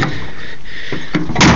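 A car door on a Chevrolet Blazer, its hinge pins recently replaced, closes with one firm thud near the end of a short quiet stretch, preceded by faint latch clicks.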